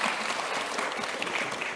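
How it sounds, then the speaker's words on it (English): A conference audience at a Jamf software session breaks into applause, a dense and even stretch of clapping from many hands with no voices over it. "Can we get a round of applause for that?"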